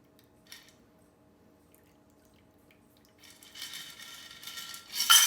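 Quiet at first, then a Gibson cocktail is strained into a glass, liquid trickling and splashing for a couple of seconds, ending with a brief louder clink or splash.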